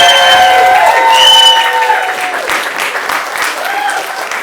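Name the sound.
audience cheering and clapping to vote for a favourite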